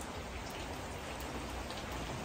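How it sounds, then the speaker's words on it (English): Steady rain falls outdoors on an island, a dense, even hiss of drops on surfaces that holds at one level throughout with no voices. "It's a rainy day today."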